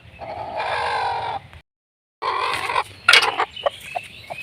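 Kadaknath and desi hens cluck and call loudly and close by, a sustained run of calls, a short pause, then more clucking with several sharp bursts.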